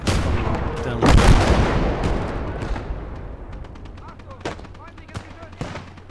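Howitzer artillery firing in the video game Gates of Hell: one heavy boom near the start, followed by scattered sharper distant shots and rumbling at an uneven pace.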